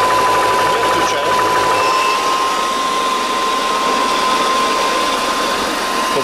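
Air compressor engine runs steadily while filling an FX Boss Laminate air rifle, a loud continuous drone with a sustained high whine and no pauses.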